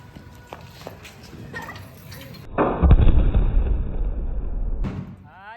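A Diwali firecracker bomb bursts with a loud, broad blast, followed by a few seconds of rumbling crackle and echo outdoors, with faint background talk before the bang.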